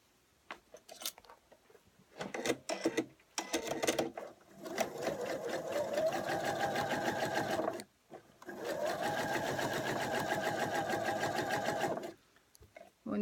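A sewing machine chain-pieces fabric in long rapid bursts of stitching, starting with a few short stitches and clicks, then two sustained runs separated by a brief pause, loud and close with no talking.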